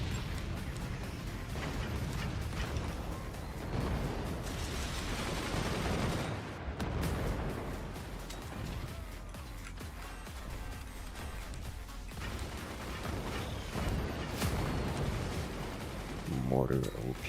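Mortar fire in the strategy game Forts, a steady stream of muffled booms and rumbling impacts layered under continuous battle noise, with talk over the top throughout.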